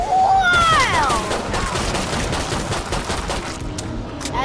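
A pistol fires in the co-op zombie shooter Killing Floor, a string of cracking shots over a busy game mix with a short whining sweep at the start.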